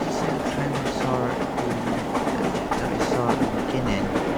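A train rolls along rails in the Gmod video game with a steady, continuous rumble and faint rhythmic clacking that stays level throughout.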